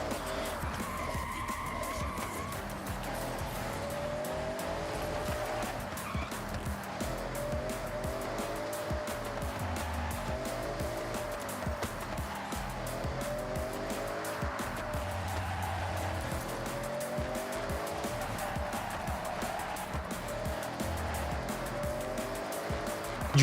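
Car racing flat out in Forza Horizon 6: a continuous engine roar rising and falling through gear changes, with repeated tire squeals and skidding throughout, loud and close, and a voice briefly speaking over the driving.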